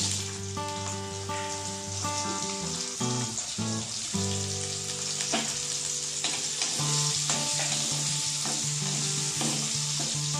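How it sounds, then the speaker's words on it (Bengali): Carrots sizzle and fry in a pan while chicken chowmein is being cooked, a steady crackling hiss with occasional stirring scrapes and clinks, close and continuous, with no talking. "গাজরটি একটু ভাজা হতে একটু সময় নেব, কারণ গাজরটা একটু শক্ত থাকে"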